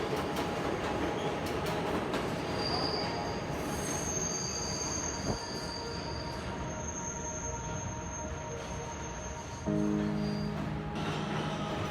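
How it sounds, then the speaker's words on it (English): A northbound subway train rumbles steadily through the BMT City Hall station, its wheels letting out a long high-pitched squeal as it passes, with a heavier thump near the end. "Here is a northbound train doing the same."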